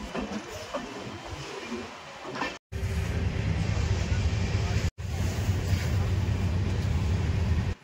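Gaur Express train running on LHB coaches after leaving Bandel station, a steady loud rumble of wheels on track heard from inside the carriage, broken by two brief drop-outs.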